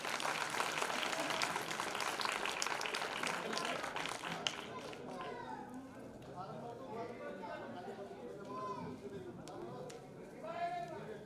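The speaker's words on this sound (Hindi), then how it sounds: "लेकिन शिक्षक बैठे जोरदार ताली बजाओ।" Applause from an audience honoring teachers at a Dhakad community talent award ceremony, a dense steady clatter of clapping in the first few seconds that thins into scattered claps under chatter and a speaking voice.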